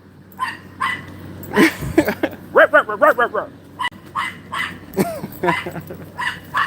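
A dog barks and yips in a quick series of sharp, close barks, with a voice talking around and between them.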